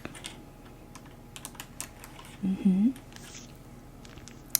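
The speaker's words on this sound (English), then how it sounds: "I will just be typing them into our system" Typing on a computer keyboard while cataloguing a stack of library books, heard as soft scattered key taps close by, with a brief louder rustle or bump midway.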